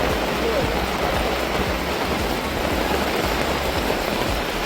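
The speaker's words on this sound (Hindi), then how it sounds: "अभी बैठे बैठे भी बारिश इतनी तेज शुरू हो गई।" Heavy rain pours down during a city outing in Bangkok as a loud, steady, dense hiss that fills the whole stretch with no breaks.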